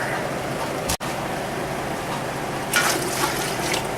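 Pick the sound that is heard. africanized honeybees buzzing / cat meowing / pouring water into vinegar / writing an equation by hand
pouring water into vinegar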